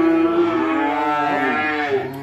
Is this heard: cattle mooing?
yes